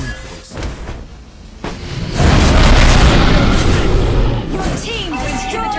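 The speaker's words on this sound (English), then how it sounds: "Your team destroyed your turret." A turret blowing up in the mobile battle arena game Mobile Legends, heard as a loud, dense explosive boom that swells and holds for several seconds amid game sound effects and announcer voice lines.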